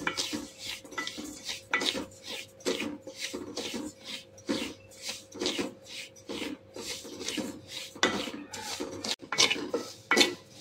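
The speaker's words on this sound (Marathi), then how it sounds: "हे वरीचे तांदूळ मस्त असे खरपूस भाजून घ्यायचे" Barnyard millet (vari rice) dry-roasting in a pan, stirred with a spoon: rhythmic scraping and rustling strokes of the grains against the pan, close and steady, with occasional sharper knocks.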